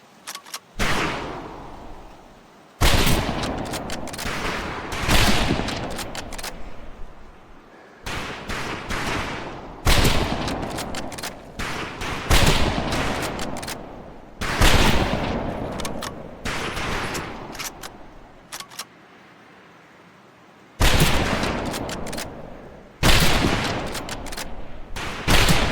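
A volley of rifle fire at shooting range targets comes in loud, close bursts of overlapping sharp cracks, separated by brief pauses and one longer gap.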